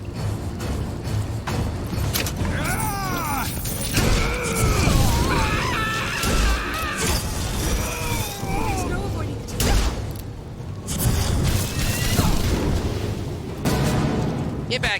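Fireball and explosions in the Bioshock Infinite video game, with booming blasts, crashing debris and shrieking effects in a busy mix, intermittent bursts rising and falling, with voices over the action.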